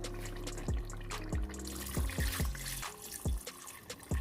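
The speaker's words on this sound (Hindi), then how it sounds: "अब मैं इसमें जो मैंने यखनी निकाली थी वो ऐड करूँगी।" Mutton broth (yakhni) pours into a pan of fried mutton and its released oil, giving a soft, steady liquid trickle with a few splashy drips, quiet and close, with no talking.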